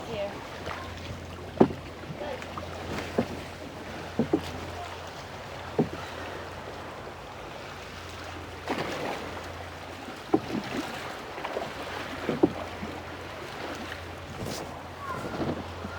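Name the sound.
small boat on water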